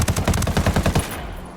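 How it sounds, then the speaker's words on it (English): Automatic gunfire in the video game Ghost Recon Wildlands, a loud rapid burst of shots lasting about a second, then fading. "Open fire."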